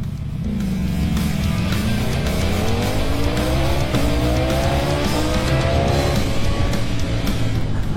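A Bentley car engine fires up and revs repeatedly at an outdoor auto show on Ķīpsala, held for the motorcycle season opening. The engine note climbs in several rising sweeps, loud and close, over steady crowd and traffic noise.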